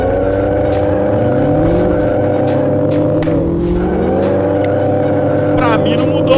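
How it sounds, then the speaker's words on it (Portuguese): A Honda Civic 1.8 engine fitted in a VW Voyage runs loud and close, holding a steady rumbling idle, then rising and falling through revs. "Vamos dar uma ligada nisso aqui. Motor de Civic."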